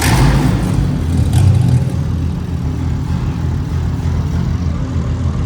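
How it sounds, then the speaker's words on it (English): BMW F80 M3 fitted with a single-turbo kit idles with a deep, rumbling engine note close by, a steady throb with a slight rise near the start and no talk. "at least for the first time we can actually now start up the beautiful F80 M3"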